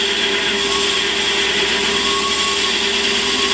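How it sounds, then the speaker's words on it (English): A metal lathe makes a roughing pass on aluminium with a sharp, positive-rake tool, hand-fed, giving a steady loud motor whine and cutting hum throughout with no speech. "The motor of the lathe has a lot more power when you've got a sharp, keen edge with a very positive rake, as this tool for aluminium has."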